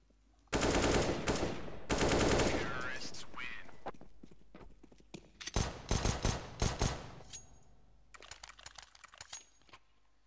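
Gunfire in a professional CS:GO match at DreamHack Dallas: loud rapid bursts of automatic fire up close, then a scattered run of sharp individual shots fading to quieter distant pops.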